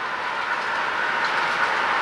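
HO scale model train, the Comet, running steadily on a large layout, giving a continuous mid-level rolling hum with faint clickety-clack, no voices over it.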